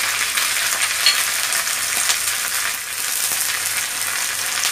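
Ginger paste frying in a hot pan with a loud, continuous sizzle, broken by occasional scraping taps as it is stirred, close up and without voices.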